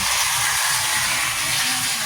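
Steady hissing, whirring motor noise from an old HO scale model locomotive running close by, continuous, with a faint rattling undertone throughout.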